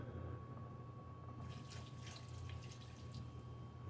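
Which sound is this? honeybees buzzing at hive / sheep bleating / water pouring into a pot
water pouring into a pot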